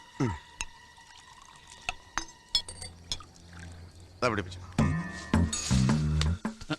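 Cold water is poured in a few separate splashes and trickles, mixed with clinks of glass or metal, while people talk and move close by.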